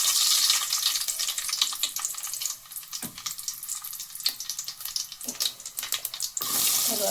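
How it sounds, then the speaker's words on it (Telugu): Mustard seeds crackle and sizzle in hot oil, a steady dense frying hiss with scattered sharp pops throughout, close and fairly loud, no voices. "ముందుగా ఆయిల్ వేడి చేసుకోవాలా. ఆవాలు వేసేసుకోవాలా."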